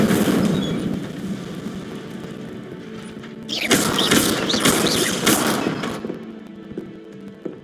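Incendio fire spell cast in Hogwarts Legacy, loud whooshing bursts of flame crackling in several pulses over rumbling background game noise, no speech.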